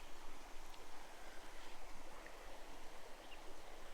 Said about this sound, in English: It's really nice just to spend some time in the rainforest and listen to the river.